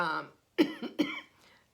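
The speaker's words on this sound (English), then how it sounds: "I always cough like this" A brief voiced sound, then a pause, followed by two harsh coughs in quick succession, close and moderately loud.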